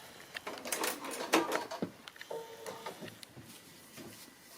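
A home sewing machine stitches a quilt block seam in short, quiet whirring bursts with small mechanical clicks and pauses between runs.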